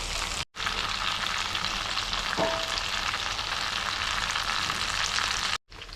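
Stuffed brinjal fries in a pan in a home kitchen, giving a close, steady oily sizzle with a brief faint clink midway and short gaps at the start and end.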